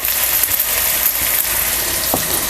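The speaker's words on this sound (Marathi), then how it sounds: "सगळं आपल्याला ह्याबरोबरच आपल्याला हे परतून घ्यायचं आहे. आणि ह्यामध्ये घालूया हळद पावडर" Onion, tomato and turmeric powder sizzle and fry in a pan for egg biryani, a continuous bright crackling hiss with occasional soft stirring scrapes, close and steady, with no voices.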